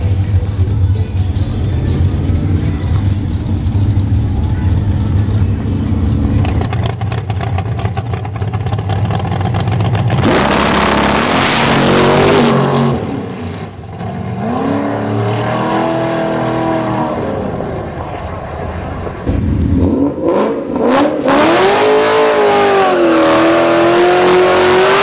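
An LSX-swapped Silverado roars at a raceway with a loud, sustained engine drone that climbs and falls through several hard revs and accelerations, close and dominant.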